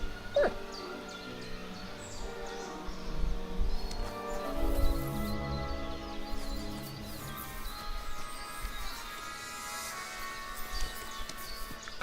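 Dog whimpering in Kingdom Come: Deliverance 2, a faint whining animal sound set among steady game music and ambient noise, with no talk over it.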